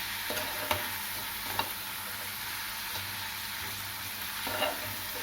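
Chana masala curry with chilli powder is stirred in a pan, giving a quiet continuous sizzle and a few faint scrapes of a utensil, with no voices.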